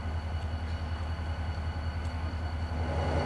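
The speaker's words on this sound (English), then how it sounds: "the rest of us took in the sights of the C and N-class locomotive leaders working side by side" C and N-class heritage diesel locomotives leading a passenger train, a low steady engine rumble and drone with faint clanks, moderately distant and continuous, no voices.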